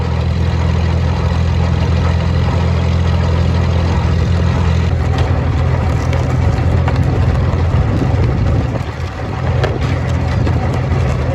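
A heavy Farmall H tractor engine chugs steadily at idle, a loud low rumble that runs throughout with slight shifts in tone near the end.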